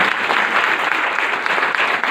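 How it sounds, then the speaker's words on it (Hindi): Sustained audience applause fills a hall at an International Women's Day gathering at a Brahma Kumaris centre in Meham, a dense, even clatter of many hands with no voices over it. "अपने लिए तालियां बजाइए।"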